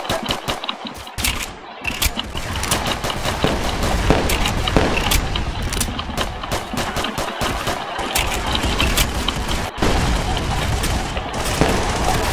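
Dense, continuous gunfire in the game Arsenal, loud and near, with rapid overlapping shots and bursts filling the whole stretch, with a few brief dips between volleys.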